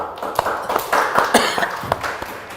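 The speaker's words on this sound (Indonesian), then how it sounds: "tepuk tangan yang meriah untuk Bapak Kadis kita ya" Applause for a regional tourism and culture official in a TV studio, with a small audience clapping in brief uneven bursts, close and moderately loud.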